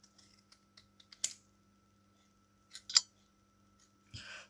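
A paper card being cut, close and faint, with a few scattered small clicks and then two short bursts of crisp snipping in a quiet room.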